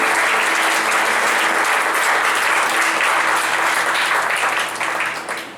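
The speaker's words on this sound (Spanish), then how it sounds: "Denle un fuerte aplauso al Señor, amén." A church congregation gives a loud, sustained round of applause to the Lord, dense clapping from many hands holding steady before tapering off at the end.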